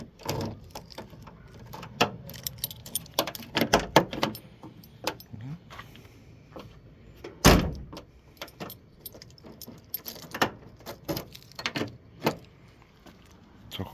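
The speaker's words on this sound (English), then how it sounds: "I've got some keys now." Keys jangle and click against the driver's door lock of a Ford Cortina Mk4 Ghia 2.3 V6, sharp metallic rattles and taps coming in irregular bursts, close and fairly loud, with a heavier clunk of the lock mechanism midway.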